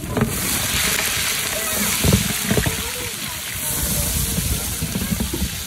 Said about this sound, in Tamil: அதை வதக்கணும்.